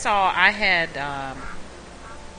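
Ducks quack in a duck pen in the farming game ArcheAge, a few loud harmonic calls in quick succession that trail off into quieter murmuring.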